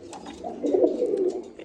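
Pigeons in a small loft of seven or eight pairs giving a single low rolling coo, close and fairly quiet.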